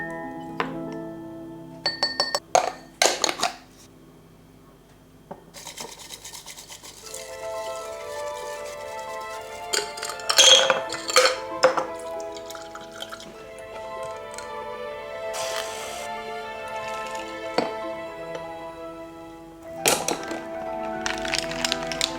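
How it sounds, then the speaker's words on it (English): Matcha is prepared with coconut water, maple syrup and milk, giving clinks and taps of glass, utensil knocks, pouring and stirring sounds in a quiet kitchen with no talk. "let's make my version of matcha. I like to do it with coconut water,"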